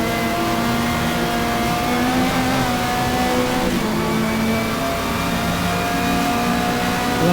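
A BMW M3 race car in the GTR2 racing game revs hard at the green flag at Road America, a loud, continuous engine roar with rising and shifting pitch, mixed with other cars in the field.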